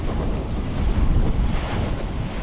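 Howling blizzard wind over rolling sea waves in the sailing game Assassin's Creed Rogue, a loud, steady roar of gusts and surf with no speech.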